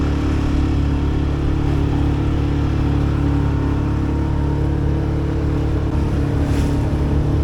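Loud, steady engine drone and rushing water aboard a 21-foot sailboat on a busy New York City river, with a ferry and barges passing nearby, a continuous wash of motor and wave noise with no talk.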